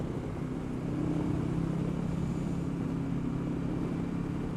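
A motorcycle cruises over Dartmoor along narrow Devon lanes: a steady, close engine drone with a low rumbling hum and wind rush that holds an even pitch throughout, with no talking.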